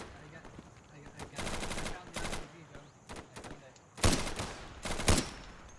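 Machine gun fire in a combat video game, with several rapid bursts of close automatic shots separated by short gaps, the loudest near the end, and faint talk underneath.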